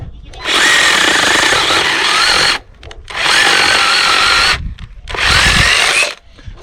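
Mini chainsaw cutting firewood, running in three loud, sustained bursts separated by short pauses as the cutting stops and restarts close by; the safety button keeps releasing the trigger.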